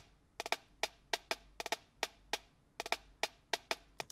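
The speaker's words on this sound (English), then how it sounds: "I wanna add some marching snares" Crisp snare drum hits in quick, repeated marching-style figures, with doubled strokes and short pauses, played alone and close.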